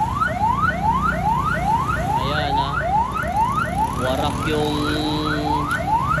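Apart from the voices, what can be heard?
ambulance siren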